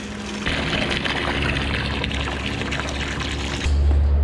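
Water pours steadily into a calves' bucket on a farm, a close, continuous splashing gush that starts abruptly and deepens in tone as the bucket fills.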